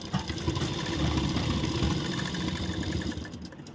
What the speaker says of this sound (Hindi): इस पर हम डबल ट्रिपल सिलाई चला देंगे